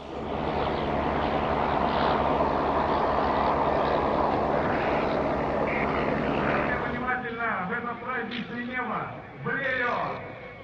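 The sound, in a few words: 1908 Tulin-A Blériot plane with Gnome Omega rotary engine flying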